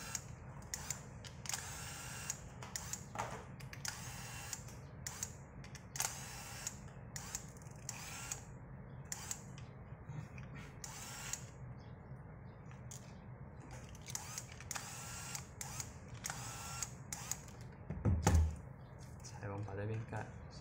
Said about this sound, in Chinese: 首先我们反过来，这背面的螺丝一颗、两颗、三颗、四颗，还有五、六、七、八、九、十，先把这10颗螺丝给拆出来